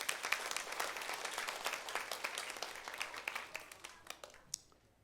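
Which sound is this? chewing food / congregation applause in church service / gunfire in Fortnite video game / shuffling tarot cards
congregation applause in church service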